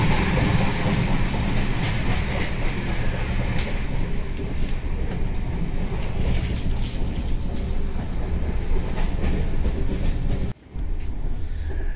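Inside a moving Champaran Humsafar Express train travelling from Delhi to Bihar, a steady loud rumble of wheels and carriage noise continues with faint clickety-clack, briefly dipping near the end.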